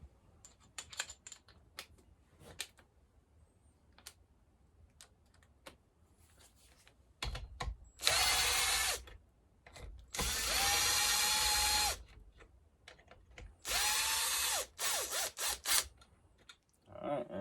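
A socket tool works on a Homelite 8800 generator, with scattered light metallic clicks and handling, then three loud, sustained whirring bursts of a few seconds each, close up.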